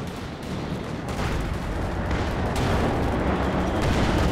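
Anti-tank gun fire in a Company of Heroes 2 match on the Fields of Winnekendonk: a continuous, heavy battle din with repeated booming reports and rumbling that builds slightly louder, no voices.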